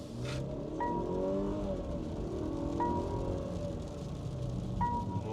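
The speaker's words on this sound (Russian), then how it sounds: "Ты, конечно, понимаешь при ее разгоне, что здесь 4 цилиндра двигатель с турбинкой" A 2022 Mercedes GLE 350 with a four-cylinder turbo engine accelerating, a steady rising engine drone heard from inside the cabin, moderately loud and continuous, with faint periodic chimes.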